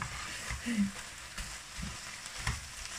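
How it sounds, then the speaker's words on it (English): Minced beef and onions frying in a pan, a soft close sizzle with a few scraping stirs and light knocks at irregular moments. "the minced beef is cooking"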